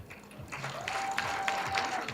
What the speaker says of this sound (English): Please, a round of applause for MC Benny.